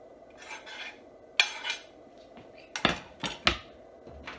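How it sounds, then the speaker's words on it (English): A spoon briefly stirs lemon lentil soup in a pot, giving a few close scraping clinks and knocks against the metal in quick succession, with no talk. "Quick stir."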